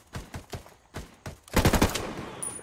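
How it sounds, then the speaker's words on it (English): Gunfire in the tactical shooter Ghost Recon Wildlands, a few separate loud shots followed by a rapid automatic burst, sharp and close with no talking. "Somebody's shooting me."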